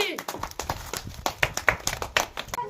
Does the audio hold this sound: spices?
no